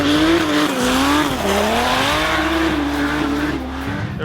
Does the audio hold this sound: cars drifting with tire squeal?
yes